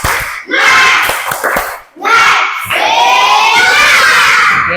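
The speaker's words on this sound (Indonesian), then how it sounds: "Coba tepuk semangat dulu." Children in a coding lesson doing a 'tepuk semangat' clapping chant, shouting loudly in unison with sharp claps in bursts, a brief pause near the middle before the group picks up again, sustained and close.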